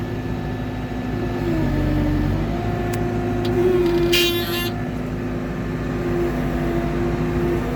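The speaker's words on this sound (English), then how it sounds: "we're gonna rev it up a little bit, and we're just gonna take it off to the side" A backhoe engine runs steadily and loud nearby with a slight rise in pitch as it revs, with a short higher metallic tone partway through.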